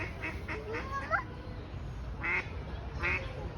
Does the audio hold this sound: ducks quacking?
yes